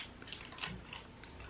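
Close-up chewing of a Jolly Rancher chewy candy: soft, sticky mouth clicks and squelches scattered irregularly across a short stretch, with no talking.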